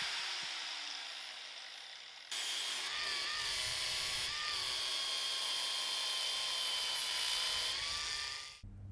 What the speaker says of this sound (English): after some time I succeeded even with the angle grinder